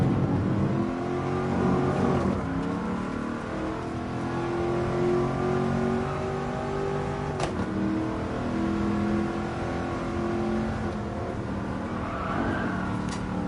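Mercedes Black Series car at speed on the Nürburgring, loud sustained engine drone with steady harmonics, a brief shift dip and resumed pull, heard from inside the car.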